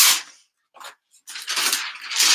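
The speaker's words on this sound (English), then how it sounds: "I apologize for the loud noise of that KTM mask." A rhinestone transfer mask being peeled makes loud, harsh ripping bursts: one at the start, a short tear after a pause, then a longer crackling pull near the end.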